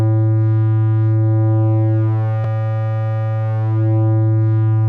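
Near-square wave synth tone shaped by Logic Pro's Chromaglow saturation, a loud sustained buzzy drone with a rich stack of harmonics, interrupted by a single brief click in the middle.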